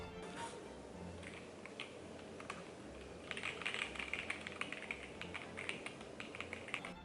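Quiet-switch AUS AK980 mechanical keyboard being typed on, soft rapid key clicks that grow busier partway through, faint and close with no voices.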